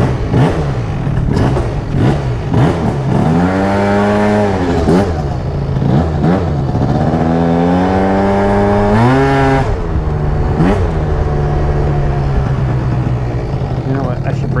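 Yamaha JOG scooter with a new carburetor, its small engine revving up and down repeatedly in loud, close, rising and falling whines before settling into a steady drone.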